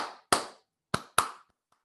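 Hands clap out a rhythm during a gospel guitar lesson: three crisp, close claps spaced unevenly in a quiet room, each ringing briefly, followed by a faint soft tap.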